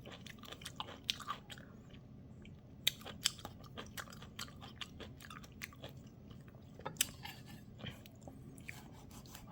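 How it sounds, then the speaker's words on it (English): Someone bites into a Lemonzest mango with its peel on and chews it close up, giving soft wet crunches and scattered sharp bite clicks that come in uneven bursts with no talking. "what I like to do is kind of eat the peel a bit"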